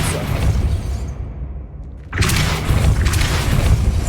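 A Depulso spell is cast in the Hogwarts Legacy video game: a loud whooshing burst that fades into a brief lull, then a sharp blast and crashing, rumbling impact that sustains to the end.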